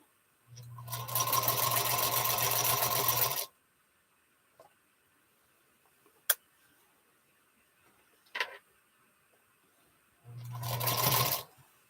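A home sewing machine stitches in two bursts, a steady whirring run of about three seconds and a shorter one at the end, with a few small clicks and taps between, close and without talk.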